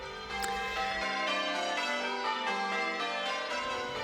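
The church bells of St Katharine Cree ring in a full, overlapping peal, clear and steady with bright ringing tones layered over one another.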